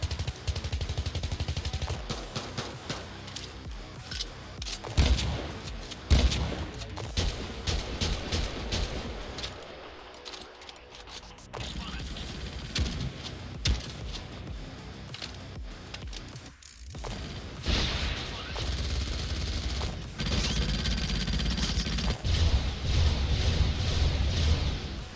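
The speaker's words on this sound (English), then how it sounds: "the arsenal of weapons have been done really nicely, with great sound effects and even better animations" Rapid weapon fire and mechanical clatter from Command & Conquer: Renegade, a continuous loud stream of shots and effects running almost the whole way with only brief dips.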